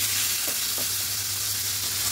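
Steady, dense sizzle of potatoes frying in a pan as salt is stirred in, with a couple of soft scraping strokes under the constant hiss.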